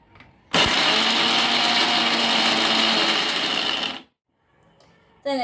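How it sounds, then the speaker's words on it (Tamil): A kitchen mixer grinder grinds coconut in one loud, steady high whine lasting about three and a half seconds, then cuts off to near silence before a brief final clatter. "நான் தேங்காய் அரைக்க போகிறோம்"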